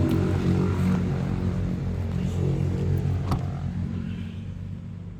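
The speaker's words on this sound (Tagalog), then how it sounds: "Itong kulay red na Wagon R. Ayan. RO6 engine." A red Suzuki Wagon R with an R06 engine idles nearby, a steady low engine rumble that gradually fades slightly toward the end.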